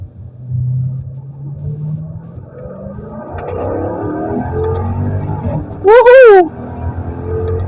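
A Mercedes SLK55 AMG with its X-pipe resonator deleted rumbles and pulls hard under acceleration, its engine note rising, with a brief loud shout over it near the end.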